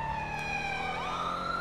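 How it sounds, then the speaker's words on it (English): A police car siren wails continuously in GTA V, its tone sliding up midway, loud and close with no talk over it. "I hope that guy gets out of here so I don't have to listen to that siren"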